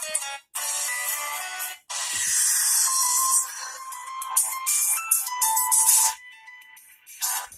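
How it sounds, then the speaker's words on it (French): A phone ringtone plays through a small speaker: a bright, shrill electronic melody in repeated bursts with brief gaps, loud and close. "On va mettre les sonneries du téléphone."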